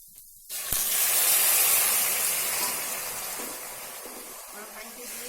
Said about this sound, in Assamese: এতিয়া মই ইয়াতে দি দিম গৰম পানী।